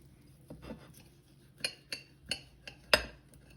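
A knife slicing into a cooked pork tenderloin on a board, several separate crisp cutting and tapping knocks spaced about half a second apart, with the last stroke the loudest.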